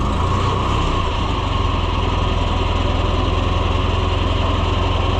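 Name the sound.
tractor engine starting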